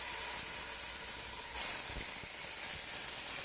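Ground beef and browned garlic sizzling in a pan, a steady, moderate hiss with a few soft stirring bumps, no voices.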